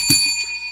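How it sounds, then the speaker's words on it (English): A bell rung once, a bright metallic strike that rings on with a sustained shimmering tone and fades over a fraction of a second, loud and alone. "Let's ring the bell for Red Swarm."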